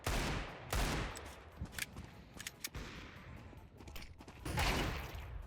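Counter-Strike 2 gunfire during a match, rapid bursts of automatic shots and single cracks mixed with footsteps and game effects, dense and punchy throughout.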